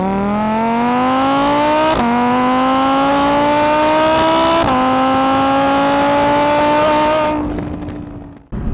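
A 2022 Audi R8 rear-wheel-drive with a V10 engine revs hard and loud, pitch climbing steadily through two quick upshifts before the note fades away, with no voices over it.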